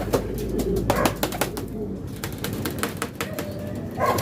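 Pigeons leaving a loft, with wing flaps and bird sounds over a steady outdoor background for a few seconds.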